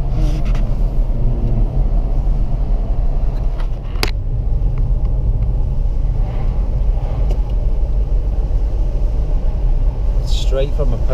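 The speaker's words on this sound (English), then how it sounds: "In this beast of a car." A powerful car drives steadily near Coniston Water, its engine a continuous low rumble with road noise filling the cabin, a few faint clicks and thumps on top.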